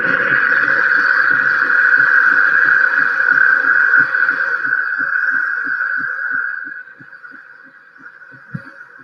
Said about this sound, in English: It's heating up for its milk foaming.